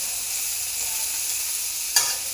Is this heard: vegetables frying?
yes